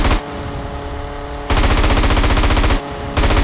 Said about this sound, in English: seems to be flying a lot better if I'm constantly shooting the gun.